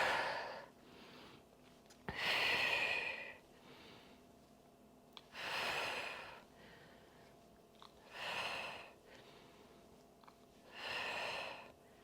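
Slow, heavy exercise breathing during a core-engaging workout move, with four or five long audible breaths, each lasting a second or more, spaced a few seconds apart. The breaths are fairly quiet and close, and nobody speaks.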